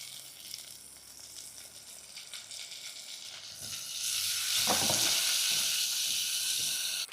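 Onion and tomato fry in a pan, a soft sizzle that grows louder and hissier halfway through and stays steady, without any talking.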